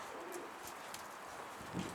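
A pigeon coos softly from close by, a few low, rounded calls spread across a quiet moment, with faint background noise and no talking.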